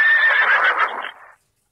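One close, loud horse neigh rings out, a shrill trembling whinny that fades over roughly a second and a half into silence.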